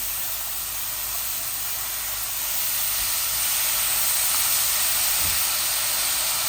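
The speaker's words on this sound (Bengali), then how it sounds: "এখন শুধু শাকটা ভাজি করে আপনাদেরকে দেখাচ্ছি" Onions, frozen mushrooms and spinach frying in a pan for a Bangladeshi spinach dish, a steady broadband sizzle and hiss heard close up that swells slightly louder partway through, with no voices.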